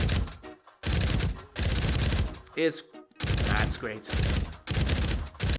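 Rapid bursts of gunfire aimed at enemy infantry in a first-person shooter played in VR, loud repeated volleys separated by short gaps, with a brief spoken remark between bursts.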